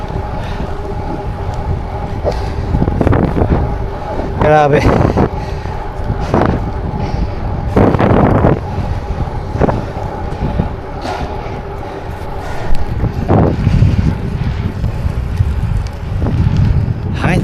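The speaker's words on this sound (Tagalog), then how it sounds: "Ang hangin dito." Strong wind roars steadily into the microphone outdoors, with a deep buffeting rumble and gusts that swell louder at moments, while a voice speaks briefly beneath it.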